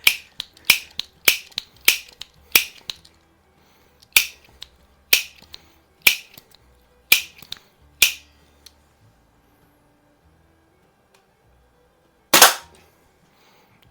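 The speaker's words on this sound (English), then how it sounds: "Shooting with pretty good power, pretty good accuracy." A .24 caliber Apache Fireball multi-pump air pistol fires a string of sharp, loud cracks, about a dozen shots in quick irregular succession, then a pause and one final louder shot, with no talking.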